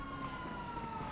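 A police siren wails in GTA 5, one steady, slowly falling tone held for a moment over street and engine noise, fairly distant and moderately loud.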